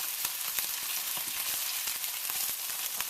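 Small pieces of food fry in a hot pan with a dense, steady crackling sizzle and scattered sharp pops, close and fairly loud, with no voices.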